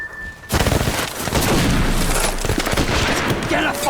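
Maxim machine gun fire during a Somme battle reenactment, a dense, loud barrage of rapid gunshots and booms erupting after a brief quiet start, continuing without pause with shouted voices mixed in.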